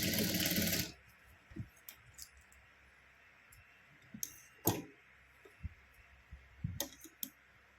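A sewing machine runs in a short loud burst while stitching a slanted seam on a blouse tassel, then stops, followed by scattered faint clicks and handling taps nearby.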